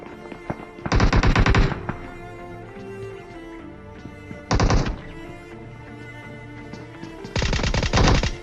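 Automatic gunfire in PUBG Mobile at a military base, heard as three loud sustained bursts of rapid shots, one near the start, a short one mid-clip and a longer one at the end, over quieter game ambience.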